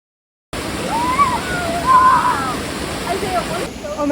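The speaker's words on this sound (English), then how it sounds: "this waterfall is actually stunning" A waterfall on a hiking trail rushes in a steady, loud hiss that fills the background, while people talk over it.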